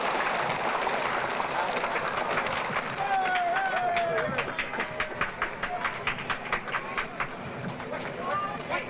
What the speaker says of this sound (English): The train is moving now into place for loading